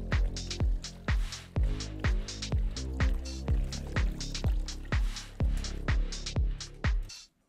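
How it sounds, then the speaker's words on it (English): Water drop sample in a liquid drum and bass style music production: a steady, evenly spaced series of crisp, resonant plinking drips repeating at a brisk rhythm, clean and close with no voices. "Here, I'll add a water drop, right?"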